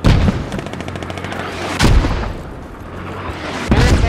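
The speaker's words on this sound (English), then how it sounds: "hold all HE mortars" HE mortar fire in the military shooter video game Squad: three heavy, booming launches or impacts, each a loud thud with a rumbling tail, and a rapid rattling burst of gunfire at the start.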